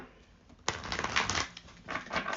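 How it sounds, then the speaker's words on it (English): A tarot deck is shuffled by hand: a quiet pause, then a sudden dense burst of papery riffling and flicking cards lasting a couple of seconds, close and alone. "Let's shuffle these just in case."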